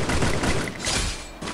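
Gunfire exchange in the battle royale game Free Fire, dense overlapping shots for about a second that then thin out and fade, with a final single crack near the end; no voices.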